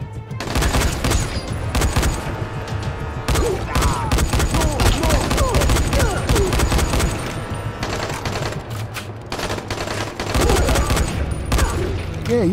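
Rapid gunfire from the zombie survival game Dying Light, loud and dense bursts of automatic shots firing almost continuously over a steady game backdrop, with bursts of commentary talk mixed in.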